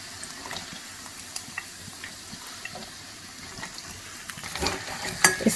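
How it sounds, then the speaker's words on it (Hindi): Chops deep frying in hot oil for a Pakistani-Indian spicy recipe, giving a steady, close bubbling sizzle with scattered crackles that swell louder toward the end. "दूसरी तरफ हमारी चॉप्स फ्राई हो रही हैं"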